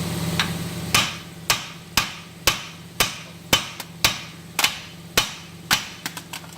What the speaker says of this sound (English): What you need to do is you need to hit here to shock.